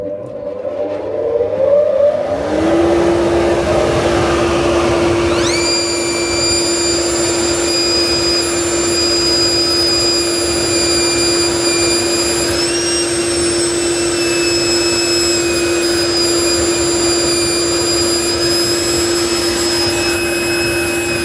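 A dust extractor spins up and runs with a loud, steady roar and a high whine at its inlet. The pitch climbs as it reaches speed, then holds for about twenty seconds.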